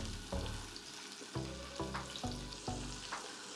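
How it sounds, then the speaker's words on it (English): Paneer cubes fry in a tablespoon of vegetable oil in a non-stick frying pan, a steady close sizzle broken by repeated scraping stirs. "So we'll just brown that cheese off."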